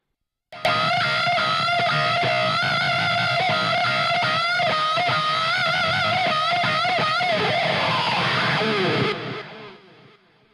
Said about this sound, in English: because it's a ping pong setting, so it sounds like this